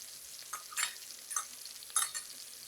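Mince and spring onions being stirred and fried in a pan, soft sizzling with a few distinct scraping stir strokes at irregular intervals, close and fairly quiet, no talking.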